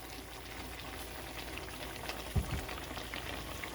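Jamaican steamed fish simmers in a covered-style pot on the stove, giving a soft, continuous bubbling and light crackle, with a couple of brief low knocks midway.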